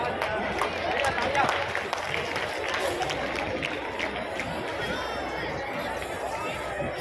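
Crowd at an outdoor community event applauding a singer, dense continuous clapping mixed with crowd babble, steady and fairly loud throughout.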